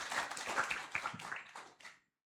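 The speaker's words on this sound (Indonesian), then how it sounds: "Boleh dong, untuk tepuk tangannya." A small audience at a building thanksgiving ceremony in Medan claps in scattered, uneven bursts of distinct hand claps, thinning out and stopping abruptly into silence near the end.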